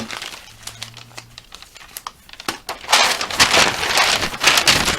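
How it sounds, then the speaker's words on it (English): Paper sewing pattern being folded by hand, a few soft crinkles at first and then a louder, sustained rustle and crumple of the sheet close by, with no talking. "and then I'm going to fold it back again."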